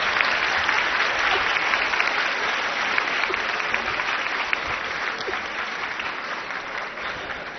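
Studio audience applause for a politician on a Hindi TV news show: a sustained, even wash of many hands clapping, steady and fairly loud throughout with no break.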